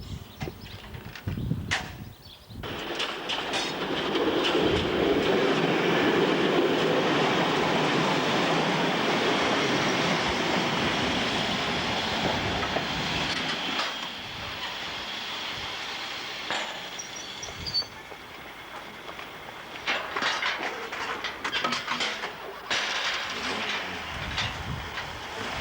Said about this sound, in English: Patient motorists roll back over the crossing as the DMU leaves again to continue on